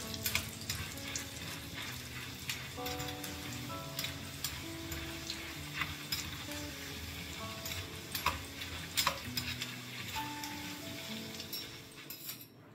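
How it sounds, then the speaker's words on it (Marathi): Cashew slices fry in a little oil for poha chivda, a faint low sizzle with occasional light ticks and scrapes of stirring, while background tones hum underneath. "काजूचे काप देखील मी थोडेसे तळून घेते आहे"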